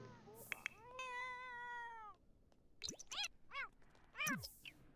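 A cat in The Sims 4 meows several times, with one long drawn-out meow followed by a series of short, rising chirpy meows, clear and close, with faint game sounds in between.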